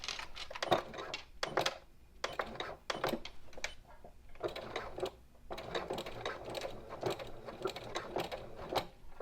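A sewing machine running in short bursts with brief pauses between them, its rapid needle clatter close and clear, stitching a back stitch on a Mini Swell bag with a boxed bottom.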